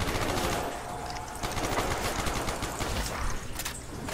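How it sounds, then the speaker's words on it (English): Rapid automatic gunfire in a Call of Duty Zombies custom ski resort map rattles continuously as a dense, fast burst of shots, fairly loud and unbroken throughout. "I hear bullets."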